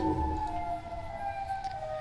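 A wailing Siren Head siren sound effect, a sustained, steady electronic siren tone with slight pitch shifts, fairly loud and alone with a low rumble beneath it.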